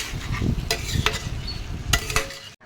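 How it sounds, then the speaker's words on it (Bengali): Curry sizzles in a pan while a spoon stirs and scrapes through it, with soft frying crackle underneath and several sharp utensil clicks against the pan, close and alone. "দেখবেন এটা ভালো করে আমি কষাইতেছি"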